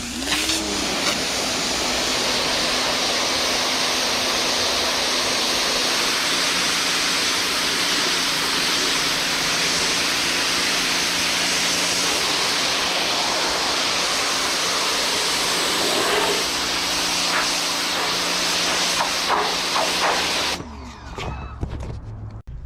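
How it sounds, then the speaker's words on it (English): A pressure washer sprays hard inside a gutted car interior, a loud, steady hissing rush that runs without a break for about twenty seconds before cutting off abruptly into quiet. "then we'll pressure wash all this."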